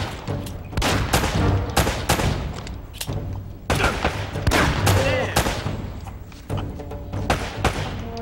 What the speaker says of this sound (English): Yeah, he's definitely got a shotgun.